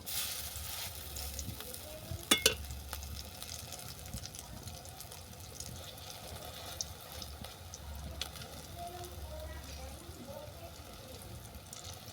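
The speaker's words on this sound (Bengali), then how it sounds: "বড়াটাকে উল্টে পাল্টে বাদামি করে ভেজে নেব" Fish fritters (bhola fish bora) frying in a pan of oil, a steady low sizzle running throughout with a couple of sharper clatters near the start, fairly quiet and close.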